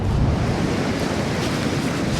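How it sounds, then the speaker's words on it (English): Sea surf rolling onto North Donmouth Beach in Aberdeen on a windy, cold day, a steady loud wash of breaking waves mixed with wind rumble, with no voices. "That sea's really picked up now."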